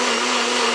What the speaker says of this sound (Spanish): Entonces ahora yo voy a licuar todo.